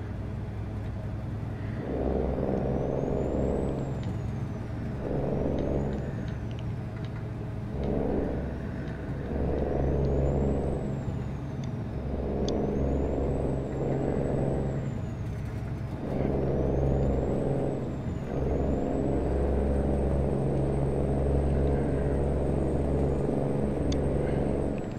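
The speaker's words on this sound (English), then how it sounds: "This truck sounds good with this Cummins in it." A Cummins-engined truck in American Truck Simulator drones steadily for a long stretch, its low engine rumble swelling and easing in repeated pulses as it shifts and accelerates, with a faint whine riding above.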